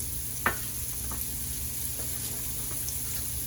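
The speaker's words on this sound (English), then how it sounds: "We put a little bit of olive oil in there. We're going to go in now with the diced onions." Diced onions sizzle softly in olive oil in a pan, a low, even hiss with a few faint scrapes and one sharp tap near the start.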